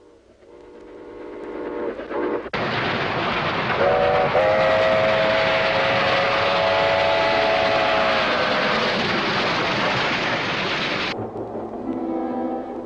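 A train heading to Arkansas rumbles loudly and steadily while a long, bright whistle blows for several seconds in the middle, then the roar drops away abruptly near the end.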